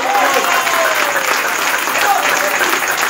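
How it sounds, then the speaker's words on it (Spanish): Loud, dense applause from a church congregation fills a service, a close and continuous wall of clapping with a faint voice underneath. "Denle un aplauso fuerte a su nombre."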